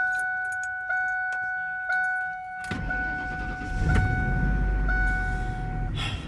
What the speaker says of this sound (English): So I think it's time for a cold start.